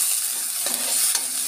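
Food sizzling and crackling in hot cooking oil, with a loud, continuous fry and a couple of brief stirring scrapes, close up and with no talking.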